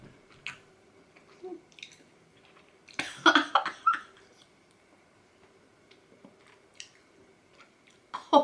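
Sour chewy candy with a sour filling being chewed close up, soft wet squishy bites spread through the clip with a louder cluster in the middle and near the end, no talking.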